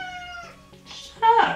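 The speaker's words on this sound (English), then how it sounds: "I don't know why my cat's crying." A cat cries with a drawn-out, wavering meow followed by a louder, rising plaintive meow near the end, close and clear indoors.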